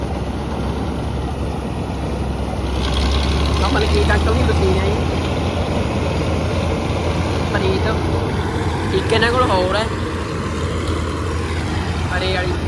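A combine harvester cutting 1509 basmati paddy runs in a field, its engine a loud, steady drone with a low rumble, while voices talk over it throughout.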